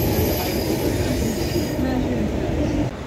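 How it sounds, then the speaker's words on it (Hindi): Interior of a moving Delhi Metro train leaving Anand Vihar: a loud, steady rumble of wheels with a squeal, which drops away sharply near the end. "अब मैं हूँ मेट्रो के अंदर, ट्रैवल कर रहा हूँ आनंद विहार से।"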